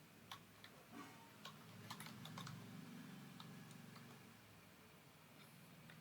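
Typing on a computer keyboard: quiet, close clusters of quick key clicks tap out in irregular bursts over a faint room hum, with no voices.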